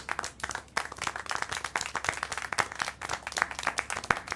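Steady, rapid hand clapping from a small group in the video game Syberia: The World Before, continuous throughout with sharp individual claps standing out.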